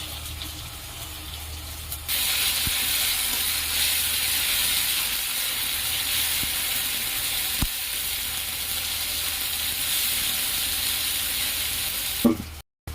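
Crushed green chilli and four or five garlic cloves fry in a pan for an egg and soybean curry. The sizzle is loud and steady, with a few light clicks of stirring and no talking.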